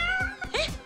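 A cat gives a brief pair of meows, clear and fairly close, with no other sound around it.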